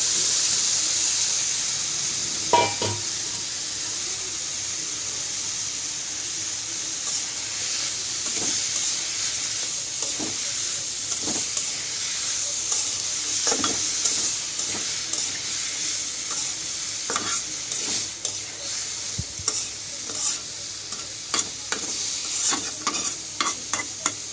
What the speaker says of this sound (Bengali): মশলাটা ভালো করে কষানো হয়ে গেছে। এটা আলু আর গাজর দিয়ে দিল।